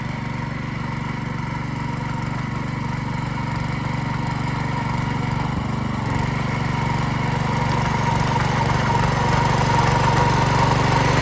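A grass-cutting machine mows grass in a village field, its engine droning loudly and steadily and growing slightly louder toward the end, with no voices.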